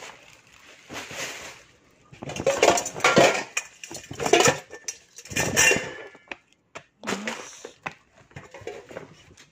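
Stacked metal cooking pots and a steamer lid handled up close, giving irregular clanks and clinks in short bursts with quieter pauses between.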